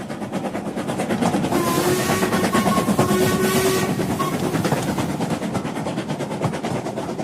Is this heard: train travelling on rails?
yes